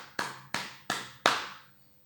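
Four sharp, evenly spaced sharp claps or taps ring out close and loud from a church congregation during a prayer service, each burst decaying quickly, the last one trailing off into a faint reverberant tail.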